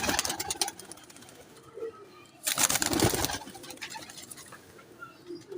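Saharanpuri pigeons coo softly nearby amid rustling and fluttering, with a louder burst of movement or wingbeats partway through and faint background voices.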